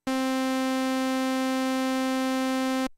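Korg Prologue analog synthesizer on a sawtooth patch, sounding a single bright, buzzy sustained note at a steady level for nearly three seconds, then stopping cleanly, with nothing else audible.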